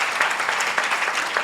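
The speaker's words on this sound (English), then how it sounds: "can we have a round of applause for all the finalists here and for all of you?" An audience at a regional school quiz final applauds the finalists in a brief burst of steady clapping throughout.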